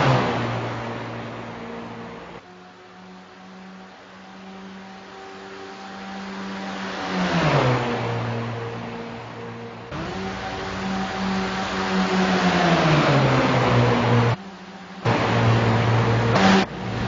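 Race cars at a Friday night shootout roar past and slow toward the pits, engines droning with falling pitch as they decelerate, several passes overlapping, loud and close with no talk.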